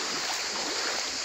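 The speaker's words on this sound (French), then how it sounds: "la petite cascade" A small outdoor waterfall near a natural spa, below a bridge, gives a steady, broad rushing splash of falling water, continuous and even, with no voices over it.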